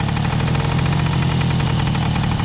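A Romet Komar 2351 moped engine idles steadily up close, a low, even, throbbing putter.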